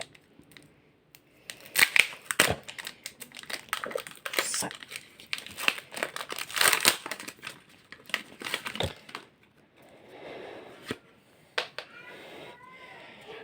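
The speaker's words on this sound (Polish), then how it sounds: "I otwieramy pierwszą paczkę." A Pokémon card booster pack is torn and crinkled open in a run of close, irregular foil crackles and rips, fairly quiet, with a softer pause near the end.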